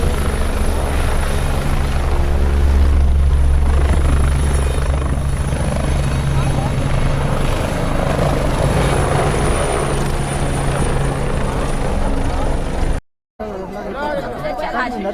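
A helicopter at Kedarnath thunders close by with a loud, steady rotor drone and low engine rumble, while a crowd chatters underneath, then cuts briefly near the end.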